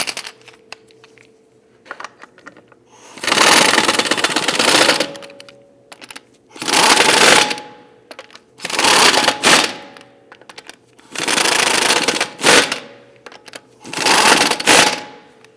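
Bursts from a power impact tool snugging lug nuts onto a 2009-2017 Volvo XC60 wheel during rear brake hose work, five loud rattling runs of one to two seconds separated by short pauses with light clicks.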